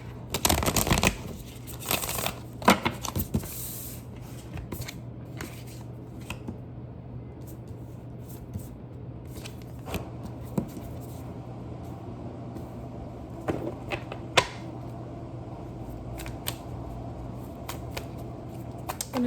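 A deck of advice cards is shuffled by hand in a quiet room, with a burst of riffling near the start followed by scattered soft slides, taps and flicks of card on card over a faint steady hum.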